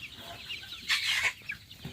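A sick backyard hen clucks and squawks nearby, with one louder, shriller cluck in the middle over a low, noisy background.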